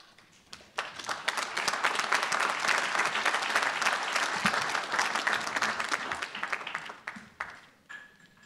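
A crowd applauding at the 2019 Pivot graduation of Georgetown McDonough School of Business, a dense round of clapping that swells quickly, holds for several seconds and tapers off.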